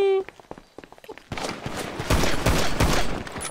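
Gunfire from a motel shootout in the game GTA V Online: a tone and scattered footsteps give way to dense, rapid bursts of shots that stay loud and close throughout.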